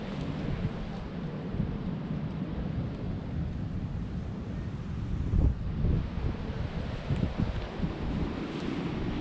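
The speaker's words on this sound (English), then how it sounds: "And it's really windy, but it held up really well." Strong wind roars in gusts around a Vango Cairngorm 200 Trek tent pitched outdoors after a night of rain. The rumbling buffeting is continuous and swells louder in places, with no one talking.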